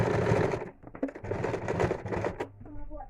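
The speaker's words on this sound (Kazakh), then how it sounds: "тағы бір тігіп шығамыз" Sewing machine stitching a quilted cushion, short rapid mechanical chatter up close, briefly mixed with a voice.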